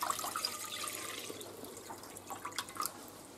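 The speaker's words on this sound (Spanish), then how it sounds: "Lo primero que tenemos que hacer es echar agua en la cacerola." Water splashes and drips as it is poured into a saucepan in a home kitchen, a short run of close, moderate trickling and droplet sounds heard alone without speech.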